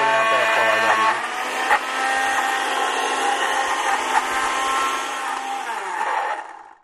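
A kitchen blender whirs loudly and steadily while blending a dip, a close, high motor drone with grinding texture that holds for several seconds before winding down to a stop.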